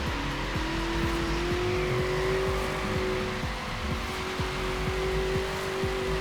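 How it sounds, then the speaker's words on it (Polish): A car in the racing game Forza Horizon accelerates hard in a loud, continuous engine drone with a rising tone and faint tire noise, no speech. "Co prawda dałem mu gaz, to widzicie, do setki to my się rozpędzamy."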